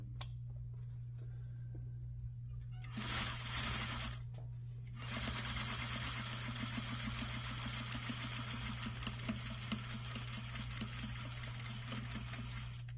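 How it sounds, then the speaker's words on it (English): A sewing machine back stitches a waistband seam on a skirt at the center back: a steady close mechanical whir with a low hum, a short pause partway through, then continuous running. "So I'm stitching in the seam, back stitching."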